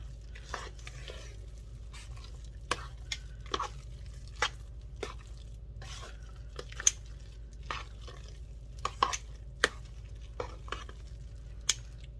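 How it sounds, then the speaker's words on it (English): A potato casserole mixture stirred by hand, giving soft, scattered scrapes and taps of a utensil against the bowl over a steady low hum. "Stir that up."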